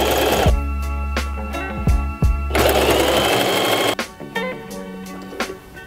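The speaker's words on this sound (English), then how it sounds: "back from the sewing machine and we did the stitch" A sewing machine runs in fast, whirring bursts of stitching, stopping and starting several times, close and loud.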